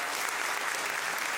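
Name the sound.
audience applauding three artists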